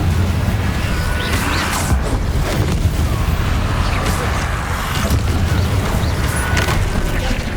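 Blasting-spell explosions thud repeatedly in Hogwarts Legacy during a fight against Inferi, loud booms and crashes with a voice speaking over them.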